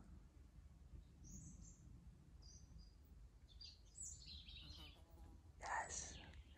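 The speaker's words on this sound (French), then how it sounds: "Écoutez, tous les oiseaux, là." Small birds chirp in an autumn garden, scattered brief high calls at a distance over a low rumbling background, with a few louder, closer chirps near the end and a soft hushed voice at times.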